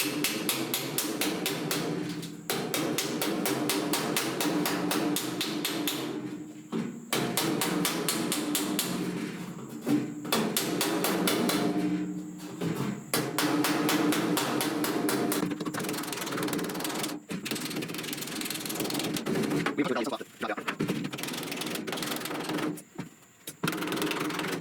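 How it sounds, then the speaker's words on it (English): Rapid metallic hammer-on-dolly taps planish TIG-welded steel sheet on a Chevrolet C10 gas filler delete, a dense, steady ringing rattle in bursts with brief pauses between runs, close and loud. "I'm going to planish this back out. I'm going to use a hammer-on dolly technique."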